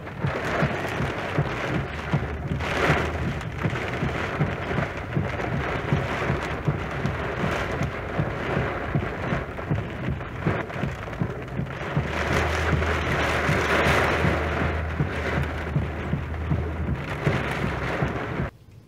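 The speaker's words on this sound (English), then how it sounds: "looks like this is the storm that came through Hutchinson" A thunderstorm with steady heavy rain in Hutchinson, Kansas, roaring continuously and close, with low rumbles of thunder building and swelling in the second half, and no voices.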